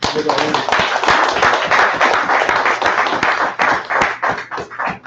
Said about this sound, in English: Give brother a round of applause.